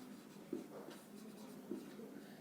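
A pen writes on paper during a Class 10 geometry lesson, producing soft, continuous close scratching with a couple of light taps, faint and without speech.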